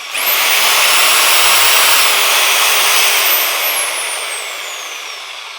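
A Bosch GSB 10 RE corded impact drill runs close and loud in a steady high whine for about five seconds, spinning up sharply and then slowly winding down as the trigger is released.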